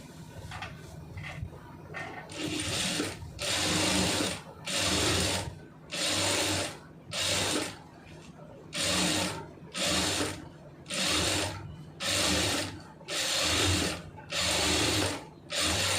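Tailor's sewing machine stitching a neck design, a regular sequence of short mechanical whirring bursts separated by brief stops, close and moderately quiet.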